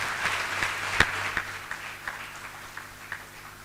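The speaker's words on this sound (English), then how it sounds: "Let us as South Africans give them a good round of applause." At a South Africa–Tanzania business forum, an audience gives a modest round of applause: scattered, fairly faint clapping that peaks with a few sharper claps early on and then tapers off.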